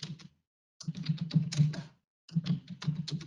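Fingers type on a computer keyboard in three quick bursts of close, crisp key clicks separated by short pauses.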